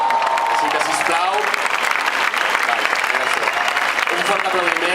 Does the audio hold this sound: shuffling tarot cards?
no